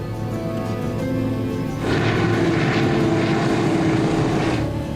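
A propeller aircraft engine spools up to takeoff thrust, a steady droning roar that grows louder partway through and holds, close and dominant, for an Alaska bush-flying departure.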